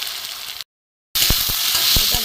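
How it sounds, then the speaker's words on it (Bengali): Thin-cut potato, onion and garlic fry in a pan with salt, a dense close sizzle broken by a short silent gap, then louder frying with several distinct stirring scrapes and clicks. "আলু পেঁয়াজ রসুন ভালো করে ভাজা হয়ে গেছে"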